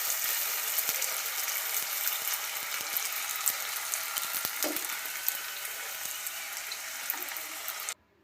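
Puris for pani puri deep-frying in hot oil, a continuous close bubbling sizzle with small pops and a faint scrape of a slotted spoon, cutting off abruptly at the end.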